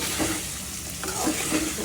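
Fish roe frying in a pan with tomato, green chili, coriander and cumin: a steady close sizzle with a few light scraping stirs of a utensil against the pan.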